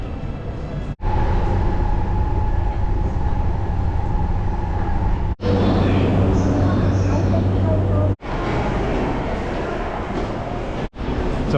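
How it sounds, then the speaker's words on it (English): A loud, steady rumble of a train passing through a Japanese station without stopping, with a low hum underneath and a few abrupt cuts in the sound. "電車通過します。"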